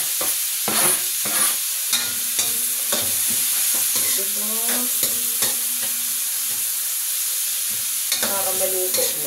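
Vegetables for lumpiang gulay stirred and frying in a pan, with a steady close sizzle and repeated scraping strokes of a utensil throughout.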